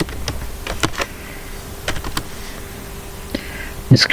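Keys clatter on a computer keyboard as JavaScript code is typed, irregular clicks in short bursts with quiet gaps, ending in a louder cluster of taps.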